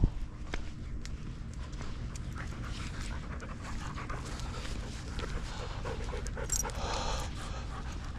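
Several dogs pant steadily through a hot outdoor walk, a constant breathy rasp close to the microphone mixed with footsteps and trail noise, with no talking.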